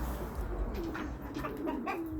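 Soft, low cooing from pigeons, a few murmuring calls heard against a quiet background hum.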